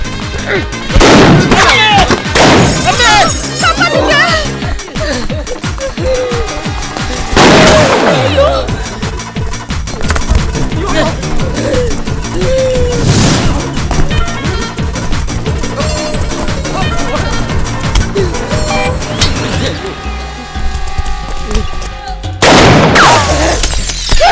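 Loud, sharp gunshots ring out repeatedly in a Malayalam film scene, each bang booming with a long tail, mixed with dramatic sound and voices talking.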